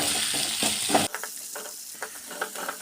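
Onions, green and dried chillies, ginger and dal frying in a pan for samba wheat rava upma. A loud hiss of sizzling in the first second gives way to quieter scattered stirring scrapes.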